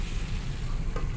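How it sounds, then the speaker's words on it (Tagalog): Bamboo shoots in soy sauce are stirred and sizzle in a pan while cooking adobong labong, a steady close frying hiss with faint scraping of the stirring, no voices. "Tuloy-tuloy po ang paghalo."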